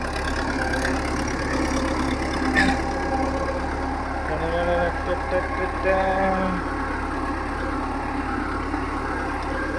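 A tractor engine runs steadily while pulling a nine-tine plough through a village field, a constant low drone heard up close beneath people talking.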